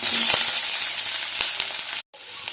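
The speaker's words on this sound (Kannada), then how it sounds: "ಚಟಪಟ ಅಂದ ಮೇಲೆ ಕರಿಬೇವು ಹಾಕ್ತಾ ಇದ್ದೀನಿ, ಹಸಿ ಮೆಣಸಿನ್ಕಾಯಿನ ಸೇರಿಸ್ತಾ ಇದ್ದೀನಿ, ಜೊತೆಗೆ ಈರುಳ್ಳಿ" Curry leaves, green chillies and onion hit hot oil already crackling with mustard and cumin seeds, giving a loud, close, continuous sizzle with a few stirring knocks, then a brief cut before the frying resumes.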